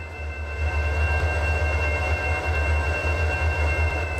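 A long freight train rumbles steadily past in the Transport Fever simulation game, with continuous rail noise and a faint high squeal of wheels on track, loud and close throughout with no talk.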